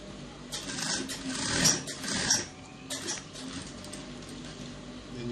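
A sewing machine stitches a senator top in a fairly quiet room, with bursts of rapid needle chatter that swell and fade over a low background hum.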